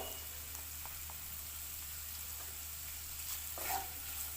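Kantola, a spiny gourd, fries with grated coconut in a pan while it is stirred, giving a soft steady sizzle with light scraping strokes and a slightly louder stir near the end.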